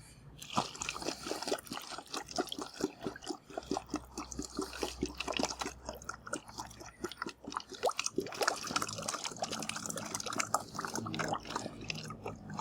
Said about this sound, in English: Now we need about 1/3 of a bottle of water.